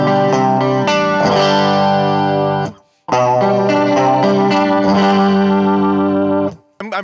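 Electric guitar runs through a budget chorus pedal set to high rate and depth, giving loud, swirling, wavering chords in two long strummed phrases split by a short pause, with no voices.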